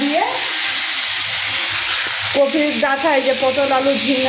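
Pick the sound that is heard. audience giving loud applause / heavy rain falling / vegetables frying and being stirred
vegetables frying and being stirred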